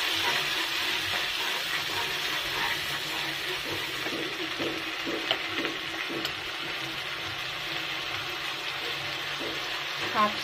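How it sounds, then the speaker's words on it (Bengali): Onion paste frying in hot oil in a wok, cooking fish curry, makes a steady close sizzle and hiss lasting throughout, with occasional faint stirring clicks and a voice speaking briefly underneath. "তেলটা গরম হয়ে গেছে, এর মধ্যে দিয়ে দেব পেঁয়াজ বাটা"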